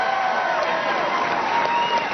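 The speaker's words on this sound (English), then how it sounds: "Let's give him a round of applause." A crowd applauds for Milwaukee mayor Tom Barrett at an election-night gathering, a steady wash of clapping with some cheering mixed in, fairly distant and even throughout.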